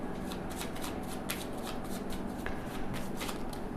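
Tarot cards are shuffled by hand close to the mic, a quiet run of crisp riffling bursts repeating every half second or so, with no talking.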